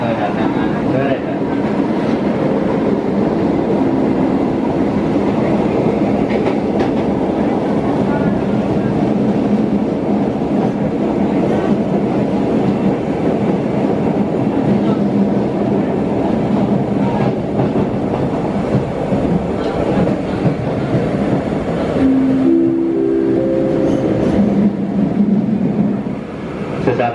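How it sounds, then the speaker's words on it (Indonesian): KRL electric commuter train running through Yogyakarta, heard from inside the carriage as a steady loud rumble with rail clatter, and an onboard station announcement speaking over the noise near the end. "Kereta akan tiba di stasiun Prawang."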